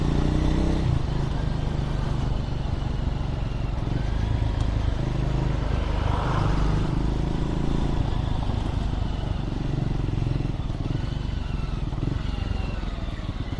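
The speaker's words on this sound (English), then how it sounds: "the downshifts on this bike is just awesome" Motorcycle engine running steadily and loud throughout, a dense rumble with rising and falling engine tones as the bike shifts down on a ride toward a temple, with wind noise and no talk.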